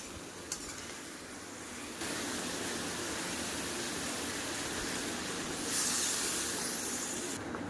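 Water poured into fried spice paste for a fish curry, a loud continuous sizzle and hiss that jumps up sharply and stays steady, swelling briefly near the end, close with no talking.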